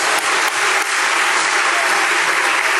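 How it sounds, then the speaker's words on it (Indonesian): An audience at an Indonesian talk applauds, with dense, steady clapping from many hands filling the room without pause, loud and continuous throughout. "Tepuk tangan, saudara."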